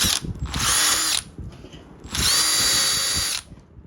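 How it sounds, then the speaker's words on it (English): A wire wheel on an angle grinder scrubs built-up grass off a hedge trimmer blade in two loud bursts of high metallic whirring and scraping, with a quieter gap between them and no speech. "Anywhere you see the grass build up, that's gotta go. So I take a wire wheel on a grinder."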